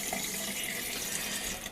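Tap water runs steadily into a pan of rice being washed, a close, even hiss of flowing water for a brief moment with no talking.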